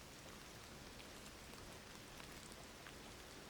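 Steady rain falling in the video game Indiana Jones and the Great Circle, a faint, even hiss of drops pattering on surfaces that continues unbroken with no voices.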